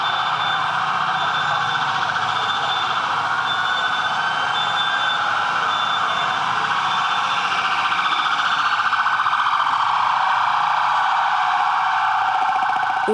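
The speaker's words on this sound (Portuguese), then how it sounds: "As sirenes anunciaram a chegada das ambulâncias ao hospital." Ambulance sirens wail as the vehicles arrive at a hospital during an emergency response drill, a loud, continuous, steady tone that lasts the whole stretch with no talking.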